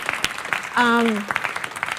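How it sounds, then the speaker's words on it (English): Audience at the Bloomberg Growth Summit applauding its sponsors, a short burst of clapping heard under and around a speaking voice. "Let's give them a round of applause."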